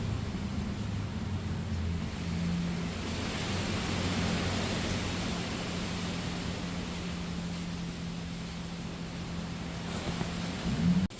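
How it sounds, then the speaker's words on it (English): Strong wind blows outdoors during a delivery stop, a steady broad rushing roar buffeting close to the microphone, with a low engine-like hum underneath and a brief bump near the end. "See how windy it is?"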